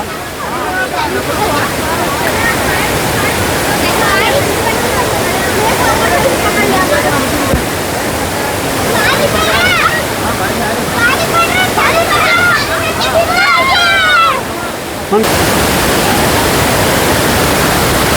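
A waterfall cascades over large boulders in the rain, a loud, constant roaring rush filling the whole span, while people talk and exclaim nearby over the noise.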